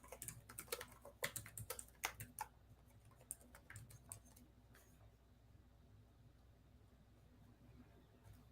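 Fast typing on a PC computer keyboard, a dense run of close, crisp key clicks that thins out and stops about halfway through, leaving low room noise.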